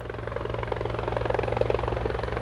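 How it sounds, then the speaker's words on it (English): A helicopter lifting off from the Kedarnath temple helipad, its rotor chopping in a steady fast pulse over a low engine drone, moderately distant and continuous with no voices. "The helicopter lifted off from Kedarnath temple at 5:20 a.m."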